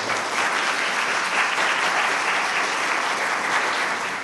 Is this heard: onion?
no